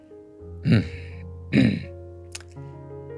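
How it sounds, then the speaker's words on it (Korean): A voice clears its throat twice, short gruff rasps a second apart, close and distinct, followed by a faint breath. "비고 마이어스가 프런트로 다가와 어색하게 헛기침을 했다"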